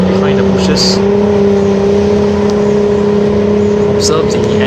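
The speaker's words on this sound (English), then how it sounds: "The tank has just passed by here." A military tank rolls past along a road, its loud, steady engine drone holding close with a deep, even hum and occasional faint higher rattles on top.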